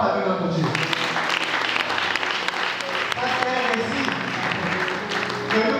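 An Easter service congregation applauding and cheering in Pointe-Noire, sustained dense clapping with voices throughout, close and steady after a brief opening.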